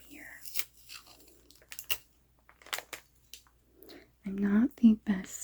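Tape is torn while gifts are wrapped: several short, crisp ripping and crinkling sounds close up, with a soft-spoken voice talking in between.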